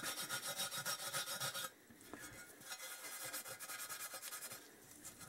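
Scotch-Brite abrasive pad scrubbing the engine casing of a Kawasaki KZ1000, a steady close rasping rub in a loud rhythmic burst, then a quieter, softer stretch of scrubbing strokes.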